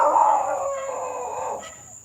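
A puppy lets out a drawn-out, wavering howl with yappy edges, fairly close and loud, fading off toward the end.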